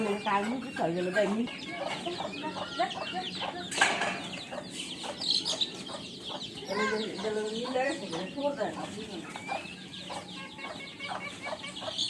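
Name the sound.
chickens clucking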